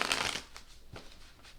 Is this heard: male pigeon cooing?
no